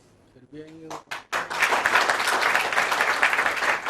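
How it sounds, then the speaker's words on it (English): A voice speaks briefly before applause breaks out from the audience at an Indian book launch, swelling into a full, loud, sustained round of clapping for a person on stage. "a big round of applause for Kiran and each individual on the stage"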